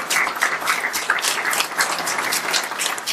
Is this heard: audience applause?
yes